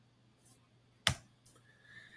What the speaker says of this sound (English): So I'm going to type in 32.